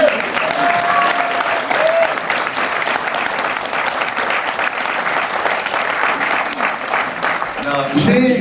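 A festival audience claps steadily at a French film festival awards event. The dense, even applause lasts throughout, with brief cheers mixed in and a voice starting up near the end.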